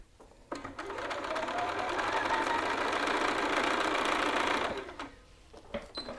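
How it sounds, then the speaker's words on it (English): A sewing machine stitching fabric a quarter inch from the edge runs in one steady burst of rapid whirring for a few seconds, then stops. Handling noises and a brief voice come before and after it. "here I'm just stitching a 1/4 inch from the edge"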